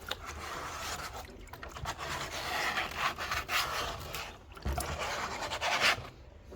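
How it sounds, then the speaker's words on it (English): Sandpaper scuffing the surface of a gold pan, a close, continuous scratchy rubbing with uneven strokes and brief pauses, heard alone without talk. "I'm just working this sandpaper around"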